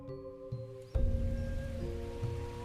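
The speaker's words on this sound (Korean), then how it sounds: "소나기가 퍼붓기 시작했다." After a quiet start, a sudden downpour bursts in and keeps up as a steady rushing wash, over faint sustained musical tones.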